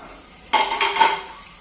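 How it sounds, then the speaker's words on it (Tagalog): Plates and dishes clatter during washing up at home, a brief burst of ceramic clinks and scraping that rises suddenly from quiet background and fades after about a second. "hugas muna si kuya sa mga pinggan"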